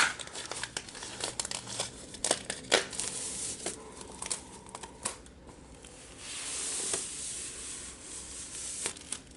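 Plastic wrapping peeled off a pad of Stonehenge watercolor paper, loud close crinkling and crackling in irregular bursts with sharp rustles throughout, no talking.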